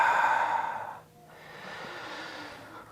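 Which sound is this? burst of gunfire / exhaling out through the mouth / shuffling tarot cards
exhaling out through the mouth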